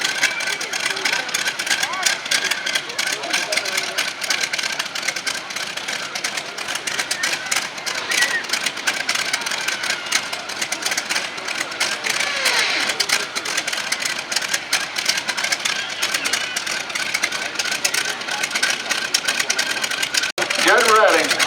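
An antique tractor engine rated at 3,700 horsepower, with parts up to 85 years old, roars steadily and loudly throughout a tractor pull at a county fair, with an announcer talking over the din.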